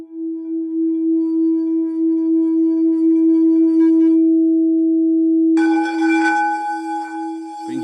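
A pure, steady tone from a tuned bowl, tuned near 332 Hz, rings and sustains, then a brighter shimmering layer of overtones joins it near the end.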